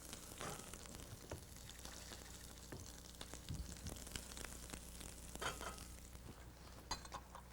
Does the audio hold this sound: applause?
no